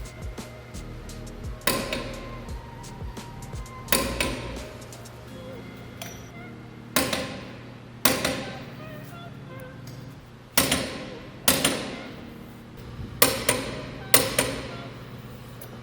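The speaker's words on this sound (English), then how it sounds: "It's not easy, at least with this huge torque wrench" A large torque wrench tightening the wheel lug nuts on a Lamborghini Huracan race car: about ten sharp, close metallic clacks at irregular intervals of one to two seconds, each with a short ring over a low steady hum.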